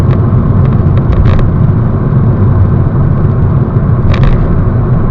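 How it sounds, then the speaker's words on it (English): Inside a 2010 Ford C-Max Zetec 1.6 cruising at 45 mph, a loud, constant low roar of tyre and road noise fills the cabin with no talking. "There's a lot of noise coming from the road on this car."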